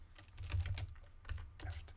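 Computer keyboard typing during Java programming of a simple temperature converter GUI app, with bursts of quick, close keystrokes clustered in uneven runs and short pauses between them.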